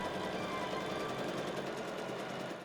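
Sewing machine stitching a baby quilt with a cherry pattern, a fast, even mechanical whirr of the needle running steadily and close throughout, with no talking.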